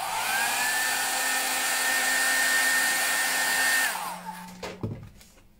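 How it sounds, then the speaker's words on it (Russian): A hair dryer blows with a loud, steady whooshing whine for several seconds, then switches off and winds down, followed by a few small clicks. "Я возьму фен и чуть-чуть."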